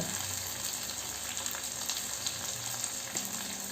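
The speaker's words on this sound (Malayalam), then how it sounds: "പച്ചമുളകെല്ലാം കട്ട് ചെയ്ത് ചേർത്തതിന് ശേഷം നല്ലതുപോലെ ഒന്ന് വഴറ്റി കൊടുക്കാം" Chopped green chillies sauté with lentils, onion and garlic for an onion chutney, giving a steady, close, unbroken sizzle of frying throughout.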